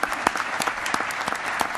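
Audience applause as young people from Mondo Unito enter the hall, a dense steady clapping from a crowd that fills the short moment at moderate loudness with no talk.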